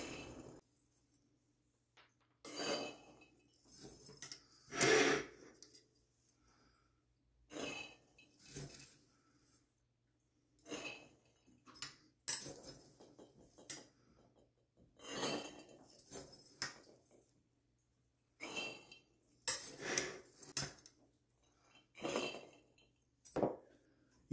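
Dry wheat, rye and oat grains poured through a canning funnel into glass jars, about three cups each, in a series of short rattling, clinking bursts separated by pauses, fairly close and without talk.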